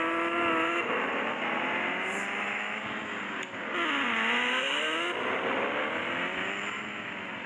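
A Bugatti car engine revs steadily and loudly, its pitch rising and falling in smooth sweeps with no pauses.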